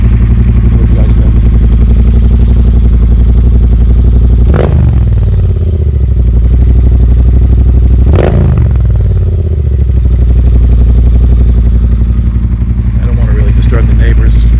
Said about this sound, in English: I'm just going to do some revs.